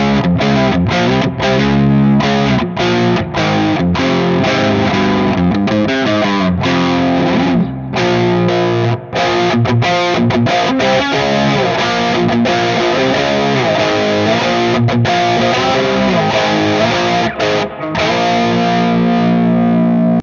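Heavily distorted electric guitar through a Mesa Roadking II Dual Rectifier amp in an old-school heavy metal tone, played as loud, continuous chugging riffs with short palm-muted stops and brief gaps.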